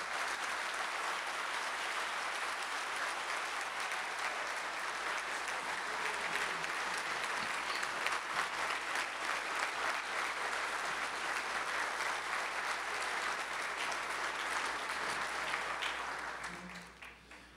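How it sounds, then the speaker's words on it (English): Forum audience at an investment conference opening ceremony in Haiti gives President Moreno a long, sustained round of applause, dense even clapping from many hands that fades out at the very end. "please give President Moreno a big round of applause"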